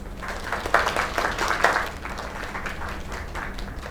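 A crowd in a video game applauds steadily for a few seconds, claps fading slightly toward the end, with a low background rumble.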